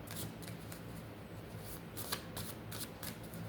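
Oracle cards being shuffled by hand, a continuous soft papery riffle with repeated crisp flicks, close and quiet, with no talking.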